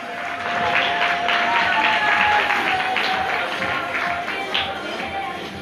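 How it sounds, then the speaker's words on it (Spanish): An audience applauds a singer announced at the final of an international song festival, steady, fairly loud crowd clapping sustained throughout with scattered individual claps and murmur underneath. "Fuerte el aplauso para Lucas Matías de Cuadro Centurión."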